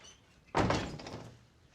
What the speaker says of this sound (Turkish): Kapa kapıyı.